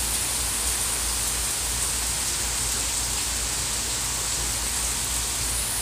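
Steady, heavy rain pours down during a severe thunderstorm, a dense continuous hiss with no breaks and no voices.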